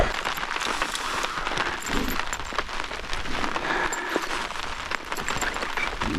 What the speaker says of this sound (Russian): Что-то как-то вот этот дождик зарядил.